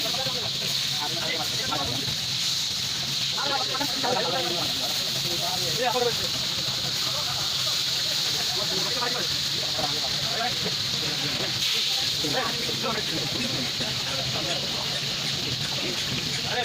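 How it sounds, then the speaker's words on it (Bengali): Hilsa fish and eggplant fry in cold-pressed ghani oil at a roadside spot in Mawa, giving a constant broadband sizzle and hiss. Voices talk over it throughout. "তো সেই রকমভাবে মাছ ভাজা হচ্ছে।"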